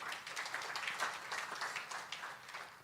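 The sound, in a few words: congregation applauding for God during church service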